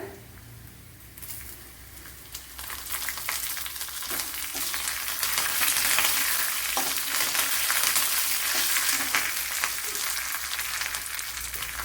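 Onions frying in a pan with green chilies and curry leaves give off a loud, continuous sizzle that swells after the first couple of seconds and holds steady, with no talking.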